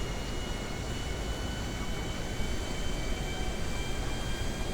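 Aircraft engines droning steadily in the GTA 5 video game, a dense continuous roar with a faint high whine, no speech, even and unbroken throughout.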